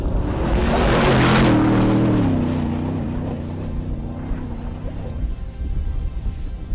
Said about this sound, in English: This is a tuned HRD truck going through a whooped out section